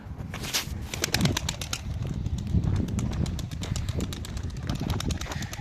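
Young pigeons that have only just started flying, kept at a baker's yard, coo and flap their wings nearby in a busy stretch of fluttering and soft calls, with no talking.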